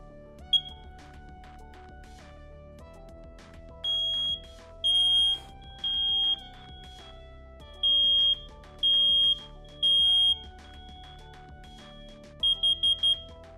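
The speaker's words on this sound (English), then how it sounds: "that's how you kind of tell the difference between if it's the carbon monoxide going off or the smoke detector" A smoke or carbon monoxide detector beeps in repeated short shrill bursts, roughly once a second apart, ending in a quick cluster of four beeps, over a steady electronic hum.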